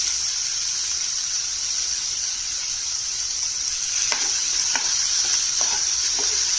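Cooked beans sizzle steadily in a pan for a home-style beans palya, with a constant bright hiss and a few soft stirring scrapes near the end.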